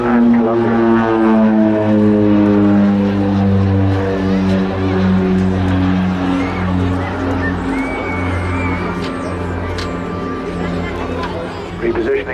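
An OV-10 Bronco twin-turboprop flies a display at the Southport airshow in 2023, its propeller drone loud and sustained with a shifting Doppler pitch as it passes; an announcer talks over it.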